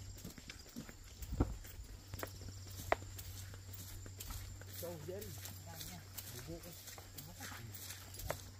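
A horse on the mountain at San Antonio, its hooves clip-clopping in scattered steps close by while people talk over and between them.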